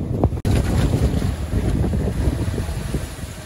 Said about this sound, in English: Got some big waves rolling in here.